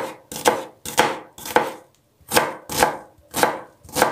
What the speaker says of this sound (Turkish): Onları küp küp doğrayacağım.